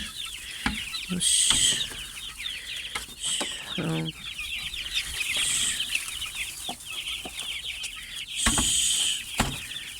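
A flock of chickens kept as home poultry clucks and squawks around a coop, with loud bursts of wing flapping and scattered calls, and a person briefly makes a hushing sound.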